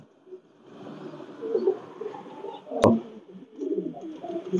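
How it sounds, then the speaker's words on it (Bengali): Pakistani Teddy pigeons, including a female, coo softly in low repeated phrases after being released, with a sharp brief click partway through and steady faint background hiss. "এইটা আমার 41 নম্বর টেডি মাদি কবুতরটা"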